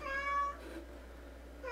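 A house cat meows close by, one short, clear, tonal cry at the start, then quiet room tone with no talking.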